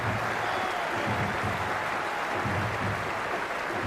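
A cricket ground crowd at a match applauds and cheers in a dense, steady wash of clapping and voices that holds evenly throughout, loud and close, with no single voice standing out.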